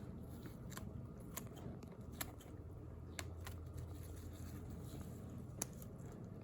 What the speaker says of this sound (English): I'll also cut diagonal here, again through the muscular tissue, to kind of create some open flaps.